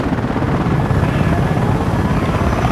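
A helicopter in the video game Battlefield Play4free gives a loud, continuous rotor and engine drone that stays steady throughout, with no talk.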